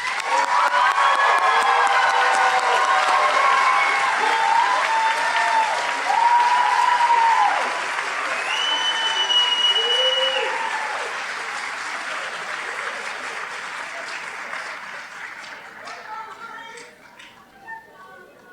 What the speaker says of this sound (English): If we could all get a round of applause for our students.